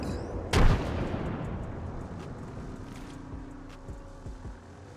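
A frag grenade detonates in Apex Legends with a single loud, sharp blast early on, then a long rumbling tail of echo and scattered distant gunfire and impacts that slowly fade.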